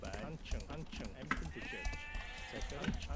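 Sheep bleat in the video game Age of Empires, a short wavering baa that rises over steady commentary and light clicking.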